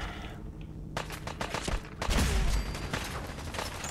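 Gunfire from a weapon in Fallout 4 rings out as several sharp, loud shots in quick irregular succession, with a heavier cluster in the middle, mechanical clicks between them and no talking.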